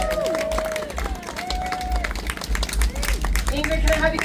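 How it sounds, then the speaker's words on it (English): Outdoor classic car show crowd in Montebello clapping, a moderate patter of applause with chatter and a deep rumble underneath, with voices talking over it. "Round of applause for Miss Ingrid Reyes."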